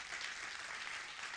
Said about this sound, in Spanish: Le puede dar un aplauso a Dios por eso.